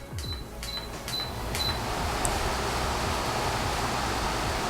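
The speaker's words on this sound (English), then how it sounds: "You can definitely hear like the fan and everything on here as well." A Dreo oscillating tower fan is switched up to speed level 6. A few quick button beeps come first, then a steady, loud broadband whoosh of rushing air builds and holds evenly close by, with no talking.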